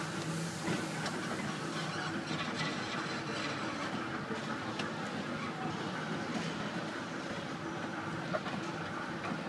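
A small ride-on train in a shopping mall runs continuously, a steady rumbling mechanical drone with clattering and faint honks amid indoor crowd noise.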